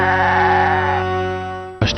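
A special goat gives one long, wavering bleat close to the microphone, loud and held for almost two seconds before it cuts to a brief burst of other sound.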